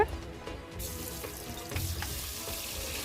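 Marinated mutton pieces drop straight into hot oil in a pan for a rich mutton curry, setting off a broad, steady sizzle that swells after the first moment and continues loudly to the end, with no talking.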